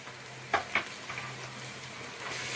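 Chili and coriander powders sizzle in hot oil with beef for a Bengali beef bhuna curry, a steady close hiss broken by a few scraping stirs of the spoon.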